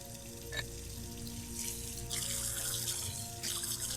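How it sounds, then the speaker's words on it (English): Tap water runs steadily as an object is rinsed in a sink in a detective video game, a continuous near splashing hiss with a low background hum and occasional brighter surges of flow. "Remove object from bucket and rinse in running water."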